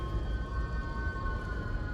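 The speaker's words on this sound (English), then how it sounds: "Is that you, Siren Head? I think your siren's broken." Broken siren drone in the Silent Hill 2 Remake video game, a steady sustained wail with faint overtones, continuous and moderately loud under a low rumbling background.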